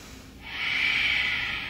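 Ujjayi yoga breathing, a single long, steady, hissing breath that swells in after a short quiet pause and holds evenly, close and clear with no talk.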